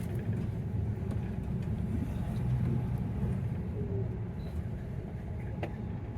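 A bus engine rumbles low and steady near a stop in Positano on the Amalfi Coast in Italy, moderately faint, with some passing street noise and no clear voices.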